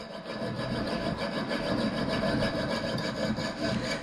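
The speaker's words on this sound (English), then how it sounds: "I'm going to saw this in half." A hand saw cuts through a copper ring in fast, rhythmic back-and-forth strokes, a close, rasping scrape repeating evenly throughout.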